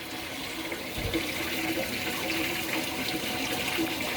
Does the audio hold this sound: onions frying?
no